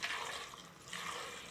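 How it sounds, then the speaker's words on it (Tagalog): Water pours into a blender jar holding vegetables, a continuous splashing rush that swells, dips briefly, then surges again, close and fairly soft, with no talking. "lagyan natin ng tubig"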